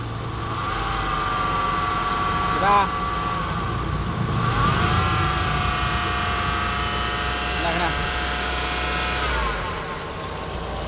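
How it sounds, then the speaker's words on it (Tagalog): A noisy Sanden 507 multi-groove AC compressor running in an older-model Nissan Sentra with the engine on, producing a steady mechanical drone with whining tones that lasts throughout; a person briefly speaks partway through. "So sobrang ingay ng kanyang compressor."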